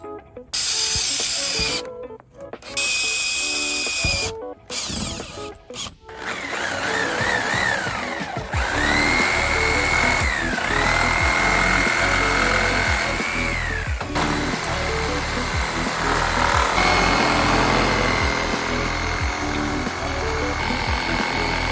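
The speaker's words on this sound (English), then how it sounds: "then we're just gonna drill some bigger holes and then get to cutting" Power drill with a fat bit boring holes in a Porsche 987 Boxster front panel, starting with short whirring bursts and then grinding steadily and loudly, the pitch rising and falling as the bit bites.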